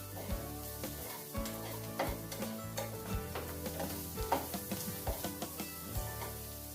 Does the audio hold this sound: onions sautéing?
yes